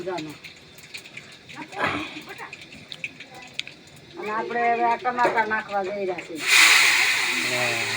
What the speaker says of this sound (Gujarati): કર્યો વઘાર